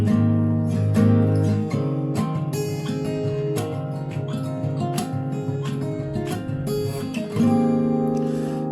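Fingerpicked acoustic guitar chords ring out in a steady, close pattern, notes overlapping and sustaining, played alone without any voice.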